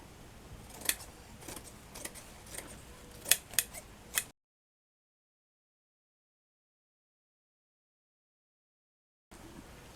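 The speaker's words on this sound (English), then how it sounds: "I'll just cut some strips ready." Scissors snip through strips of lace fabric in a few quick close cuts during the first four seconds, followed by a long stretch of silence.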